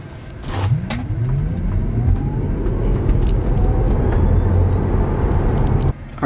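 A Tesla Model 3 Long Range RWD launching from 0 to 60 mph at 20% charge: a rising electric motor whine sweeps steadily upward over loud road and tyre roar, continuous and close throughout.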